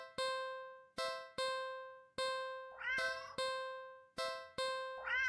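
A cat meows repeatedly, each cry a strong harmonic call with a fading tail, about one per second in a steady rhythm, close and clear, with a rougher, brighter yowl overlapping a couple of the calls.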